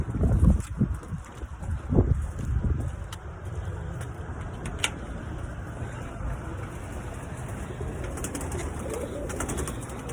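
Pigeons cooing softly in a coop, with low murmuring calls and rustling, plus a steady background hum and occasional faint clicks.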